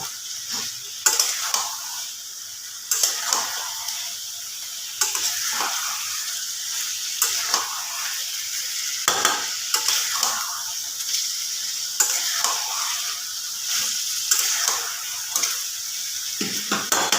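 Chicken being stirred in a kadai over a high gas flame for restaurant-style kadai chicken, with steady close sizzling and repeated scraping stirs throughout, no talking.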